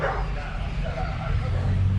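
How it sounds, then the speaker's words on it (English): A dog barks in a street in Mexico, sharp yips and bow-wows that stand out from a busy outdoor background rumble. "Thought the dog was coming after me there."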